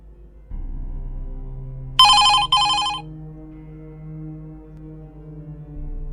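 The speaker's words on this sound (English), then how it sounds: "It was the landline." A landline telephone rings in two quick bell bursts, loud and close, then falls silent over a steady low room hum.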